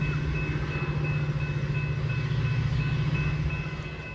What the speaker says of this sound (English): This would be our last train for Crystal Lake